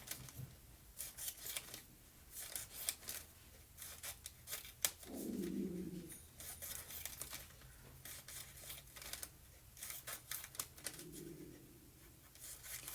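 Scissors snip down through cotton paper in quick, quiet cuts, with soft rustling and handling of the sheet around a couple of longer slicing strokes.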